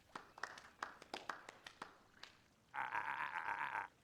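A crowd gives applause in the video game Beacon Pines: a quiet run of separate, scattered claps, followed by a brief sustained tonal sound.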